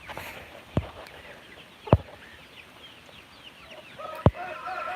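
Chickens on a rural South Dakota farm, including a young rooster, cluck softly in the background, with three sharp close knocks or pecks standing out and a faint higher chirping near the end.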